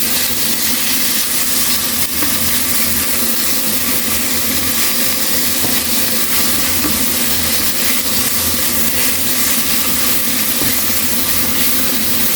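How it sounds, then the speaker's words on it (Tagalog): Minced pork sautéing in a hot pan gives a loud, steady, close sizzle with a constant crackling hiss that runs unbroken throughout. "may gisa-gisa na naman tayo, luto-luto na naman tayo"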